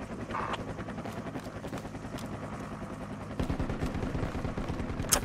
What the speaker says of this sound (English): Chopper's heading north from squad 6's position.